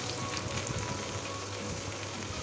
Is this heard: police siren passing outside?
no